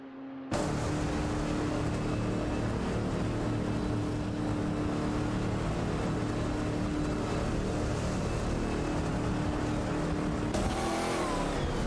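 Steady, loud engine drone from an RSSR Jaguar XET2 and a BMW M3 E46 GTR racing in a video game, holding a constant pitch for about ten seconds after an abrupt start, with a slight shift near the end.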